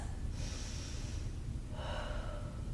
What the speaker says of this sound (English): Let's do 4 more deep breaths.